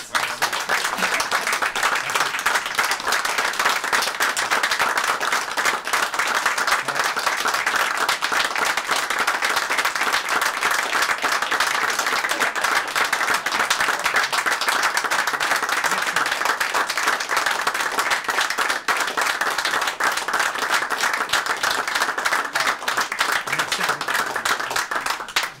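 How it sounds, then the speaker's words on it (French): A crowd at a regional county council meeting in Portneuf, Quebec, applauds steadily and densely for a long stretch, many hands clapping at once without letup. "je voudrais qu'on l'applaudisse"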